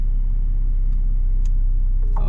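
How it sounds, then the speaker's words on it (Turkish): Porsche Panamera 4 or Mercedes S500 Coupe engine idling steadily before a drag race, a low continuous rumble close by with no talk. "Araba çalışıyor."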